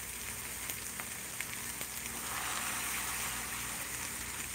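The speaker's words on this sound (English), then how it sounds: "we're just quickly sauteing this up" Corned beef stuffing sautés in a pan with a constant bright sizzle and crackle, fairly close and steady throughout, no voices over it.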